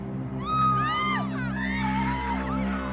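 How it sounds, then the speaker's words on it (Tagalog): People screaming and shrieking outside as a sound effect in a horror story, several rising and falling cries overlapping at a distance over a low, steady hum. "At doon na namin narinig ang hiyawan ng mga tao sa labas."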